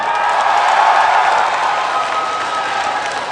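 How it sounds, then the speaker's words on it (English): Canadian members of a BlizzCon 2009 contest audience applaud and cheer together, a dense, steady wash of clapping that holds loud throughout and eases slightly toward the end. "Canada, applaud."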